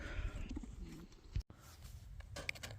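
Racing pigeons resting before release give soft low cooing notes, close by but quiet, mixed with handling noises and rustling.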